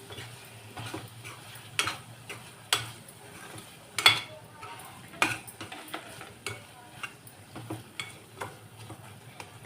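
Green chillies sauté in a pan for mushroom biryani, with a quiet sizzle under a string of sharp clicks and scrapes from a spoon stirring against the pan, all fairly faint and without talk.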